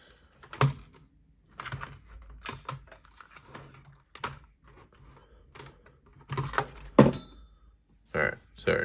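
An Arcane Design Abyss prototype folding knife is flipped open and shut repeatedly, giving sharp close clicks and short rattling bursts separated by brief quiet gaps.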